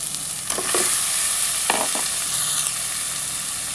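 Eggs sizzling as they are stir-fried in spiced oil for egg biryani, with a steady hiss and a few sharp scraping strokes of a spoon against the pan, close by.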